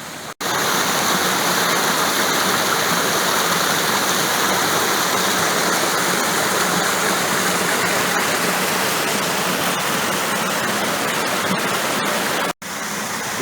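A river rushes over rocks in a steady, loud roar of broadband water noise that holds constant almost throughout, cutting off abruptly just before the end.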